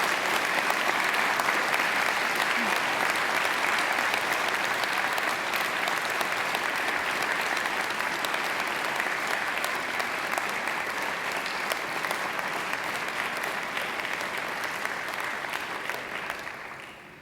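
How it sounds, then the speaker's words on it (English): Graduates at a university graduation ceremony give a long, sustained round of applause to their families and friends, a thick even roar of clapping from a large hall that slowly fades toward the end. "I invite you to give them a mighty round of applause"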